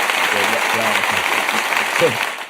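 Several people clap in a podcast studio, a brisk patter of hands heard close by underneath someone talking over it.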